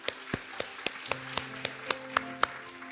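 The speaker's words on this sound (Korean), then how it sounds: "우리 하나님께 감사와 영광의 박수를 드리겠습니다" Scattered hand claps from a church congregation during a Sunday worship service, sparse and fairly faint, with sharp individual claps spaced irregularly rather than full sustained applause.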